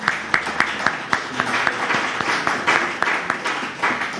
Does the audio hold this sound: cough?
no